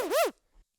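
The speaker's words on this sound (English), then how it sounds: "This one is called Double Zip." A Double Zip tech house effect: two quick synthetic zipping sweeps that rise and fall in pitch, bright and upfront, then a faint short tail before silence.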